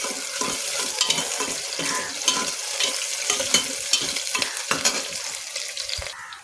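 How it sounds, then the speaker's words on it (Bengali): Onions fry in a pan until browned, a constant close sizzle broken by repeated stirring scrapes and clinks from the utensil. "পেঁয়াজটা আমি লাল লাল করে ভেজে নিব।"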